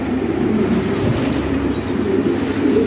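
Large Lahori Siraji pigeons coo in a steady low murmur, with soft wing flapping mixed in, sounding close and continuous throughout.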